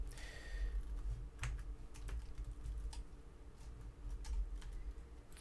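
Fingers type on a computer keyboard in quick, uneven bursts of soft clicks, close and alone over a low steady hum.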